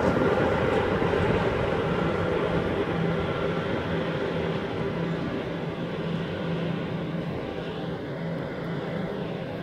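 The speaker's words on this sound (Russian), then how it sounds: "Это специальный состав, вот локомотив." A special train hauled by a locomotive runs along the railway by a bridge in Jüterbog, a loud steady rumbling roar that slowly eases over several seconds.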